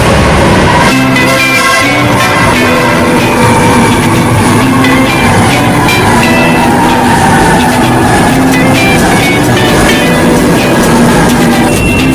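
An MRT metro train rolls along steadily with loud rumbling, rhythmic wheel clatter and occasional high metallic squeals, heard close from inside a carriage.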